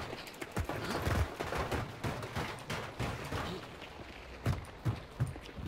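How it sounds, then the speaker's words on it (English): Gunfire in the video game Hunt: Showdown, including a Winchester rifle, comes as a series of muffled shots and impacts at irregular intervals over a dense, noisy game soundscape, with several heavier thumps near the end. "He's trying to shoot me through a brick wall."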